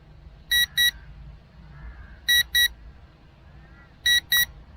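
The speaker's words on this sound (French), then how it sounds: "je ne sais pas s'il bip parce que l'autonomie est réduite ou s'il bip à cause de son RTH, de son waypoint" An Eachine EX5 drone, a Mavic Mini clone, beeps during its return-to-home flight: three pairs of sharp, loud double beeps spaced about every two seconds over faint wind noise.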